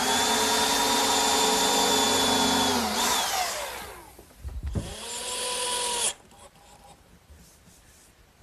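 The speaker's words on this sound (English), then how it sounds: "Now I'll just drill and countersink for the screws." A power drill whines at high speed while drilling and countersinking screw holes in a wooden sandbox frame, its pitch sagging as the bit bites, then spinning down, followed by a brief burst and quieter handling noise.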